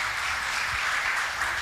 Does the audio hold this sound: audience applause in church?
yes